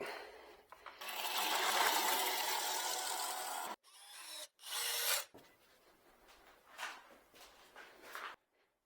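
A wood lathe turns a thin live edge bowl blank, giving a loud scraping, rasping hiss as the tool cuts, then breaking into shorter bursts and pauses, with quieter whirring between cuts.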